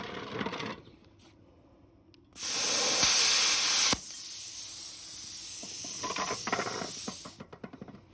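Hynade 55A plasma cutter slicing through metal: after a short lead-in, a loud, bright, steady hiss runs for about five seconds, rising sharply at the start, then tapers off with a few ticks and clicks.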